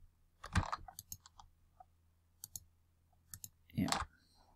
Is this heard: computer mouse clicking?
yes